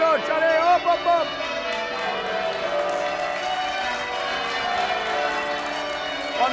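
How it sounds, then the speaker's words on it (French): Church bells ring at a wedding with sustained, overlapping tones, steady and resonant, while voices and crowd noise mingle underneath. "Mettez plus fort, allez, les cloches"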